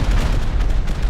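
A rocket explosion in a video game, a dense, loud, rumbling boom filling the short moment with heavy low-end roar and no clear gaps.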